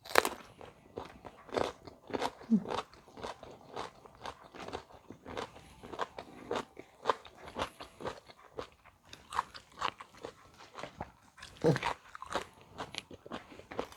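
Someone biting and chewing crunchy food at a lunch of steamed three-layer pork with fresh garden vegetables, repeated crisp crunches in an irregular rhythm, close to the mic and mostly without talk.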